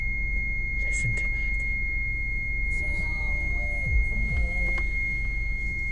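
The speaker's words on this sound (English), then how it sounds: "Parking sensors warning me that I'm too close to that hedge, even though I'm in park and I've just started the car." Parking sensor warning beeps in a parked Honda Legend sound in short repeated bleeps over a high steady tone, heard above the car's constant low idle close by.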